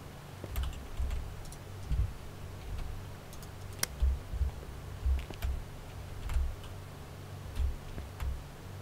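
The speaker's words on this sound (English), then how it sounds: "Oh no, never mind, that's your keyboard." Keyboard keys being typed on, light and close, in a steady run of taps with a soft clock-like ticking, over a low steady background hum.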